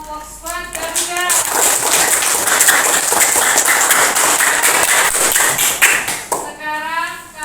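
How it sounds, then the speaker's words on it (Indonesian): Classroom applause for a student group in an Indonesian school lesson, many hands clapping in a dense, loud burst that fades near the end, with voices audible at the start and finish. "Kita beri tepuk tangan untuk kelompok Squad Garuda."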